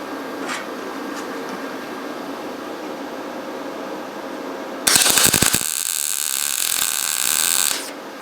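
A YesWelder MIG-205DS-B MIG welder at about 85 amps lays an aluminum bead: a loud crackling, buzzing arc starts abruptly, runs for about three seconds and then cuts off against a steady fan hum.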